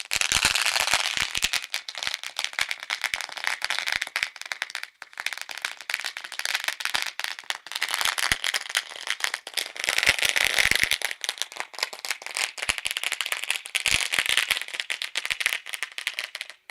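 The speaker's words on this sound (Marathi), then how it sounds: "जोरदार फटाक्यांच्या आतिषबाजीनं आपण पाहुण्यांचं स्वागत करतो." Firecrackers burst in a rapid, continuous crackling chain to welcome guests at a local sports event, loud and close with dense popping and no clear talk.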